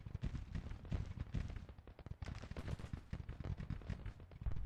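Distant cannon and musket fire from a Grand Tactician: The Civil War battle, a faint, continuous ragged stream of pops and thuds with no pauses, heard low and far off beneath the general din of combat.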